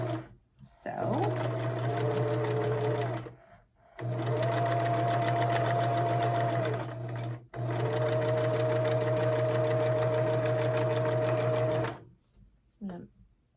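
A sewing machine stitches a temperature quilt in three sustained runs of rapid, even mechanical whirring, each separated by brief pauses, close and clear.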